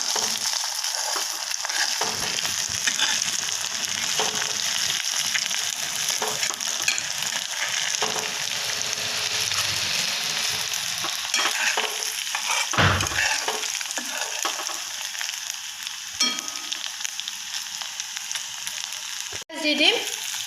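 Chilli chicken with ginger and green chilli sizzles steadily in a pan while being stirred, with occasional scrapes and clanks of the utensil over the continuous frying hiss.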